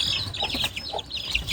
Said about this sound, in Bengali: সবগুলা হচ্ছে আসিল মুরগির বাচ্চা